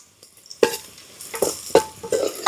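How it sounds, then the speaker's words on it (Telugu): Onions and green chillies fry in a pan for gongura mutton curry: four or five sharp spatula scrapes and knocks land over a soft, intermittent sizzle, close by and with no talking. "ఎర్రగడ్డ పచ్చిమిరపకాయలు అయితే ఇప్పుడు బాగా వాడనిద్దాము ఎర్రగడ్డలు వేగిపోయాయి"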